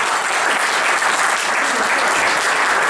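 A concert audience applauds an orchestra member with continuous, even clapping from a sizeable crowd, moderately loud and unbroken throughout, with no voices standing out.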